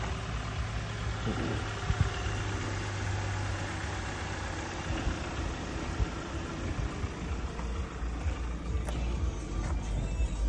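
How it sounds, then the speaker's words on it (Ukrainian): A 2018 Audi Q5 engine idles, a faint, steady low rumble that stays fairly even throughout, with light background noise and a few soft knocks. "А зараз обороти впадуть."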